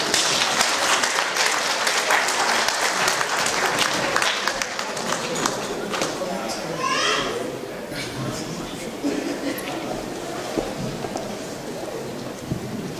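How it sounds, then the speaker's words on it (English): Audience applause at a Nigerian independence celebration in Manchester, a broad, continuous wash of many hands clapping that stays loud throughout, with some voices mixed in. "Mr. Olukunle Bambuse, can you have a round of applause, please?"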